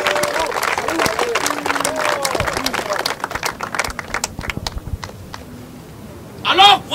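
A church congregation applauding and acclaiming Jesus Christ during a service: bursts of clapping and crowd noise mixed with voices, busier at first and thinning out, with a short louder flurry near the end.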